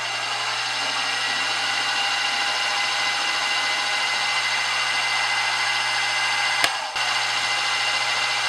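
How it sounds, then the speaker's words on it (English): A 5/64 center drill cutting an air passage in a radial engine cylinder, heard as a steady, loud machine whir and hum with a sharp click near the end. "we'll put a center drill for the air passage, and that's got to be a 5/64 drill bit"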